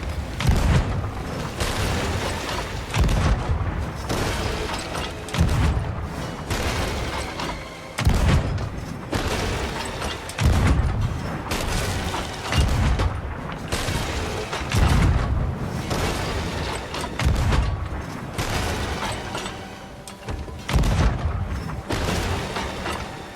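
Cannon booms from an emergent sloop arriving in the Sea of Thieves video game, repeated heavy thuds roughly every two to three seconds over a dense, continuous roar of in-game noise.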